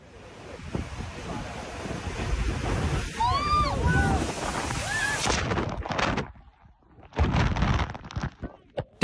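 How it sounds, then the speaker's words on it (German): Ocean surf rolls and crashes in a continuous roar, heavy wind buffeting the microphone, with a few faint high chirps mid-way before the wash briefly drops and surges back. "Der Ozean hat sich daran erinnert, dass er viel mehr ist als nur ein netter Hintergrund für Fotos"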